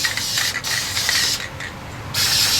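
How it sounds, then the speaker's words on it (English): An aerosol can of high-heat paint hisses loudly and steadily at close range while coating a brake wheel cylinder from a 1960s Lincoln, the spray broken by a few brief pauses between bursts. "it only takes a few seconds to spray it"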